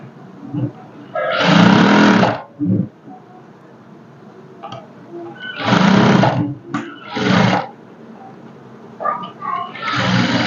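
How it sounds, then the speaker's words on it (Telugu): A sewing machine runs in three or four loud bursts, stitching a straight side seam on a high-neck blouse, with quiet gaps and soft handling sounds between runs. "ఈ రెండు అయితే ఇలా ఒక దగ్గరికి పెట్టుకొని ఇలా స్ట్రైట్గా అయితే ఒక స్టిచ్ వేసుకోండి."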